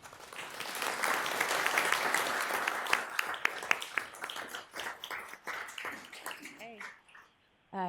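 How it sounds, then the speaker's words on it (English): A round of applause at a city council meeting, sustained clapping from the room that tapers off as speech takes over near the end. "Let's give these folks a round of applause."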